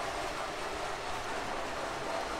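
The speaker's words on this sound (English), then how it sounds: "we're running the Pittsburgh Steelers Express MTH train, given that we're rolling into football season" An MTH O-scale Pittsburgh Steelers Express model train runs steadily on its track, producing a continuous, even rolling whir at moderate level with no distinct clicks.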